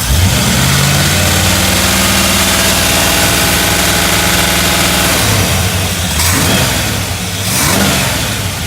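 A modified 1955 Chevrolet Bel Air engine revs loudly and holds a high pitch, then drops and rises again in a couple of throttle blips near the end.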